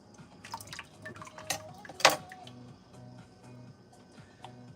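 Water drips and trickles off a vinyl Crissy family doll head as it is lifted out of a basin of water, with a few louder splashing drips in the middle over quiet background clatter.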